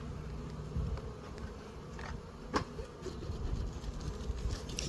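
Steady buzzing of honey bees close by during a hive inspection, a dense insect drone with a few sharp bumps and knocks.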